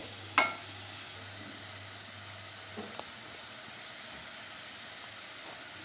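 A pan of tomato and egg fry sautés with a steady low sizzle and hiss, and a brief clink of a utensil stirring near the start.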